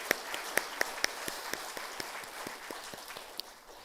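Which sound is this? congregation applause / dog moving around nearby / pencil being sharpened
congregation applause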